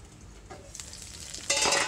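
Cumin, garlic and other tomato chutney ingredients frying in oil in a pan, a soft steady sizzle with light stirring that swells into a louder burst of frying near the end.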